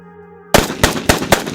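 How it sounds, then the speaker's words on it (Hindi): Rapid gunshots fired one after another in a forest, four sharp loud cracks spaced about a quarter second apart, breaking in suddenly after a quiet, low electronic drone. "एक के बाद एक गोलियां चलने की आवाज़ आई"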